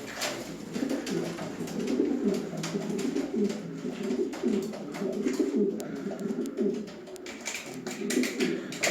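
A male pigeon coos in repeated rolling phrases during the breeding season, close and steady for the whole stretch, with a few light taps between calls.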